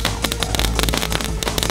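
Large homemade jumbo fireworks crackle and pop in a rapid, continuous barrage of loud bursts with no pause.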